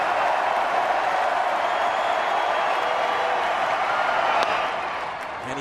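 A ballpark crowd at a baseball game roars in a broad, steady wash of cheering as fans urge on a pitch, holding level before easing off slightly at the close.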